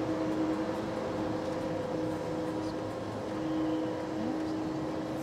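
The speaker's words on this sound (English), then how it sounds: "You can hear the pedestrian warning sound," Low, steady electronic hum of the pedestrian warning sound on a BYD Atto 3 electric car while reversing into a parking spot, a faint constant tone under the cabin background noise.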